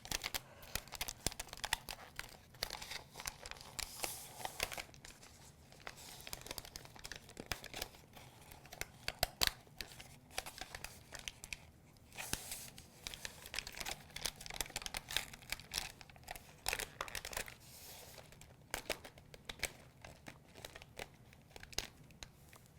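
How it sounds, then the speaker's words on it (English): A big rolled-up piece of transfer tape being peeled back from a corner gives a steady, close crackling and tearing rustle with small pops, continuing throughout without a break. "I'm going to fold this corner too and start pulling from this side as well."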